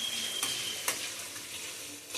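Banana, raisins and pineapple sizzling and frying in ghee for kesaribath, a steady close crackling hiss with a few brief stirring scrapes and no talk.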